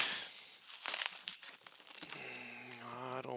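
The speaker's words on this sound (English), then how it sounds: "I'm gonna cut everything up here" DHL shipping packaging being cut open up close, with crinkling, tearing plastic and cardboard scraping, then a faint voice murmuring toward the end.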